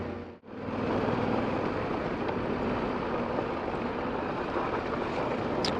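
A motorbike engine running on an old rail bed trail gives a steady, broad rumbling roar that holds evenly for several seconds after a brief dip at the start.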